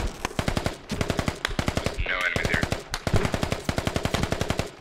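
Sustained automatic weapon fire in the military shooter Squad, a loud, close, rhythmic stream of rapid shots that pauses briefly and then resumes, with a faint voice in the middle.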